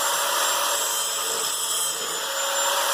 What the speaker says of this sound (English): I'm going to use this grinder and grind them down